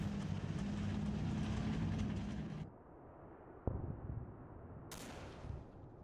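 Combat Mission: Battle for Normandy game audio, with a rumbling mortar barrage that cuts off abruptly, then a single sharp impact crack followed by a lower distant rumble and a hiss.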